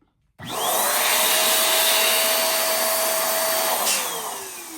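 A white balloon fills from a pump in a steady, loud rushing hiss that starts abruptly and holds for about four seconds, with a rising squeaky whine as the latex stretches, close up and with no talking.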